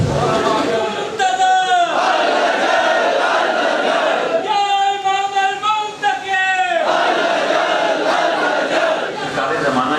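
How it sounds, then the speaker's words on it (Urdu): A crowd chants religious slogans at a Shia Majlis-e-Aza mourning gathering during Muharram, with two loud bursts of unison shouting rising over a steady hall-wide crowd murmur. "اتنے زیادہ نعرے لگائے"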